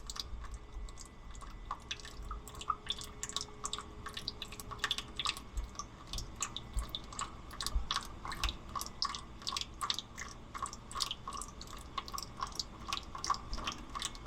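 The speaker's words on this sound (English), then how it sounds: "I'm just going to let that drain until it stops draining" Transmission oil drains from a loader, giving a continuous patter of drips and small splashes at an uneven rhythm, close up and fairly faint, with no voices.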